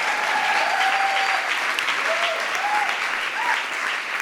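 Sustained audience applause, a dense steady wash of clapping from a crowd at a live talk, filling the whole stretch at even loudness.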